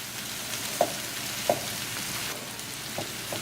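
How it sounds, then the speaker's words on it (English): Potatoes and cauliflower frying in a pan over a medium flame give a steady, soft sizzle throughout, with a few light clicks of stirring near the start and toward the end. "Cooking for 3 minutes on medium flame."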